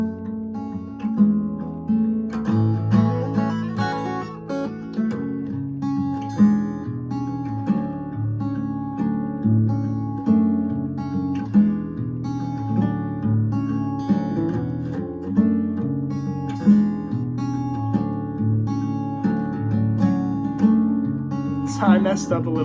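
An acoustic guitar plays a full song part, strummed chords and picked notes in a steady rhythm, close and alone with no voice over it.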